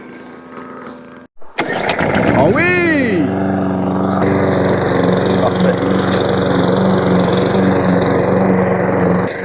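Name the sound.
lawn mower running while cutting a track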